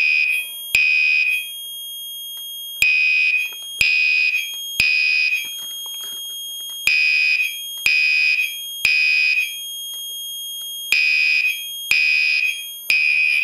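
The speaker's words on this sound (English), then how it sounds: "That's the alarm." A Monaco Vulcan 1 fire alarm horn blares during a system test in loud, shrill, repeating bursts of about a second each. It sits close and dominant over more than thirteen seconds, with no talking.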